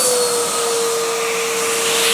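A Hoover Windtunnel 3 High Performance Pet upright vacuum cleaner runs at full power with strong suction, giving a loud, steady whirring roar with a constant high tonal whine and no voices.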